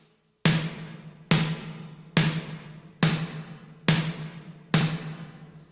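Snare drum from a drum kit heard within a music mix, six sharp cracks at a steady pace with ringing decay after each, fairly loud with no talk.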